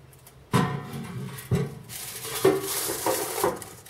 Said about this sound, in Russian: И теперь устанавливаем поддон для жира.